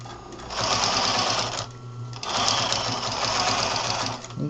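A sewing machine stitches a messenger bag through Velcro in two loud, close bursts of rapid whirring stitches separated by a brief pause, with low-level talk underneath.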